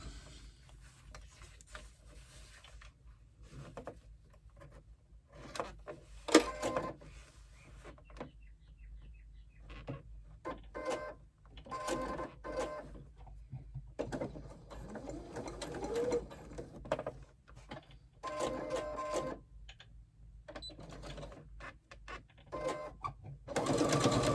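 A domestic sewing machine sews up a side seam in short, stop-start bursts of motor whirring interspersed with fabric handling and quiet pauses.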